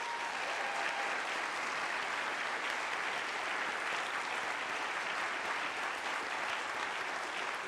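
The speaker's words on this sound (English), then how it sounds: "Let's give them a round of applause." A large audience claps steadily and loudly throughout, a dense continuous wash of applause with no pauses, at NASA's OSIRIS-REx asteroid sample reveal.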